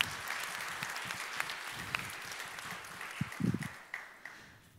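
Meeting attendees applaud faintly after a presentation, soft scattered clapping in a room with a few louder, closer claps near the end.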